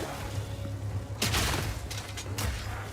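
Grenade explosions in the video game Path of Exile 2, a Grenadier Mercenary build: two loud, broad blasts about a second apart over a steady low game drone, with crackling debris between them.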